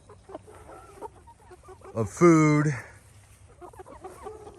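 Backyard chickens on a suburban permaculture plot let out a loud, drawn-out squawking cluck near the middle, standing clearly above quieter surrounding speech and soft ambient noise.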